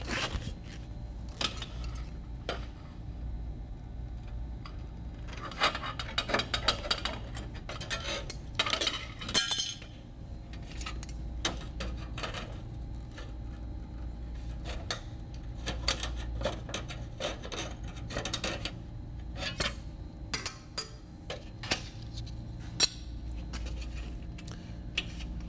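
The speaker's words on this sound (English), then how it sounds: "I'm going to come in and just snip through the open hem and everything in one snip" Tin snips cutting through the open hem of sheet metal chimney flashing, with crisp metallic snips, clinks and scrapes in irregular bursts, close and moderately loud with no talking.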